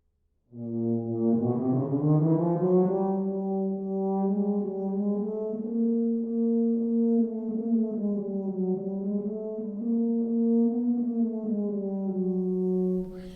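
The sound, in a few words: tuba playing in upper range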